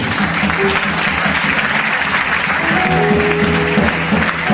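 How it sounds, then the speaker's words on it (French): A church congregation applauds loudly and continuously, dense clapping filling the room with cheering voices mixed in, steady from start to end. "Tu acclames très fort le Seigneur."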